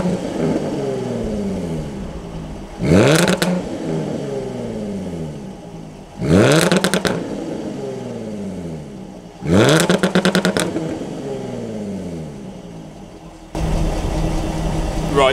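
Jaguar F-Type V6 and V8 exhausts idle with a throaty burble, broken by three sharp, loud revs at even intervals, each a quick rise and fall, before a deeper idle takes over at the end.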